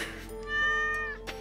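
Single drawn-out cat meow, close and clear, rising and falling over about a second in a quiet setting.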